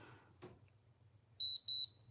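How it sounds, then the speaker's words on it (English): Facial spa device giving two short, bright electronic beeps in quick succession, close and clear over a faint low hum. "So you're only gonna hear 2 beeps for this because there's no conductive gel"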